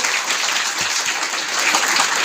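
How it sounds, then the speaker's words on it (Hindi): A congregation at a Hindi-language prayer gathering clapping to thank God, continuous loud massed applause with no pause. "ताली बजाकर प्रभु को धन्यवाद दो।"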